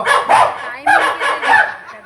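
A stray dog barks in a few quick, sharp bursts during an Odia comedy jatra stage performance, fairly close and loud, with a short pause before the next pair of barks.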